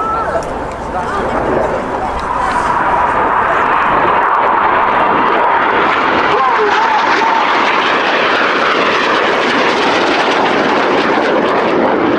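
Red Arrows RAF jets flying an aerobatic display at the RIAT 2022 air show, a loud sustained jet roar that swells and holds, with a commentator talking over it.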